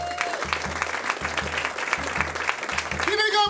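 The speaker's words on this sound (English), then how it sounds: "Give a big round of applause for Ed Hill" Comedy club audience applause in Calgary, a crowd clapping steadily and fairly close, with a rhythmic low musical beat underneath and voices calling out over it.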